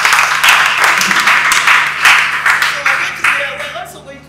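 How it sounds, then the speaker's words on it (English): A small audience at a workshop session claps in a short burst of applause that tapers off within a few seconds, fairly close, with a voice speaking faintly at the end. "Let's give her a round of applause"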